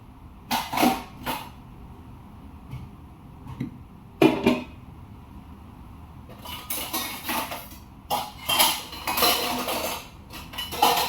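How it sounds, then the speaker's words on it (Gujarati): A metal pressure cooker is handled on a gas stove while potato and cluster bean curry is cooked, giving loud, sharp metallic clanks and scrapes in scattered bursts with no talk. "તો ગેસ ચાલુ કરી દીધો છે કુકર લઈ"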